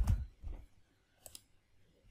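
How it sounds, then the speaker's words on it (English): Computer mouse clicks while setting up a remote connection to a Windows server instance: a couple of sharp, close clicks, with a brief double click in the middle and quiet gaps between. "Now click on the instance, then click on connect"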